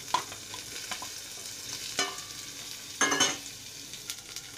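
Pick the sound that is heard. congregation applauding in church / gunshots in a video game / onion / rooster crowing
onion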